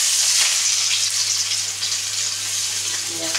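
Onion, chopped raw ginger and green chilli stir-fried in a kadai with boiled potato, giving a loud, dense, continuous sizzle with faint scraping, close to the microphone.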